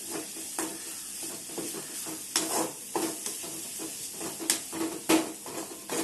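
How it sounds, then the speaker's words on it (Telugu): Seasoning for mango pulihora frying in a pan makes a close sizzle, with irregular stirring scrapes and light metal knocks recurring throughout. "కలుపుకుంటూ ఉండాలి"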